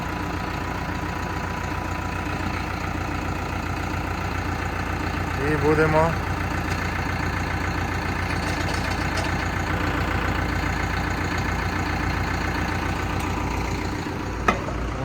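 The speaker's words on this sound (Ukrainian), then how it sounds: "Залишили, щоб трактор пропрацювався." A tractor engine idles steadily with a constant low rumble throughout, and a person speaks briefly over it.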